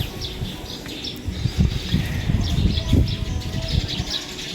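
Racing pigeons at a loft, with repeated chirps and soft coos over a low rumble of nearby fluttering and movement, steady and close with no talking.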